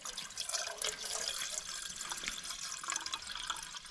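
Peaty yellow water pours steadily into a camping kettle at a winter wild camp in the Pennines, a continuous close splashing trickle with no talk.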